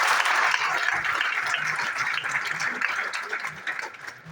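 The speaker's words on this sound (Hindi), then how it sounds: "उनका एक बार जोरदार तालियों से स्वागत करना चाहिए।" A crowd claps loudly and steadily, the applause slowly tapering toward the end.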